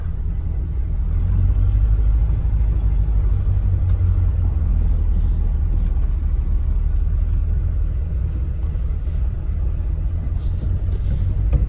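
A 1938 Ford two-door hot rod engine rumbles steadily as the car rolls forward, a low, continuous drone with no break for the whole stretch.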